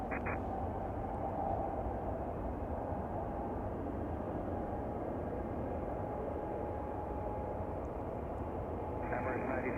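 An Emirates SkyCargo jet bound for Dubai takes off at Chicago O'Hare, a steady, broad engine roar that holds evenly loud for the whole stretch, with no pauses or distinct individual events.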